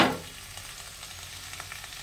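Flat beans and new potatoes sizzle in a pan right after the lid comes off, a brief clatter at the start followed by a steady, gentle frying hiss with faint crackles.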